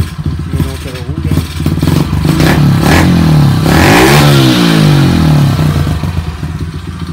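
A rebuilt Kawasaki KLX110 dirt bike engine, running with a slight noise at the cylinder head, idles loud and close with a steady chugging pulse and swells in a brief rev midway before settling back.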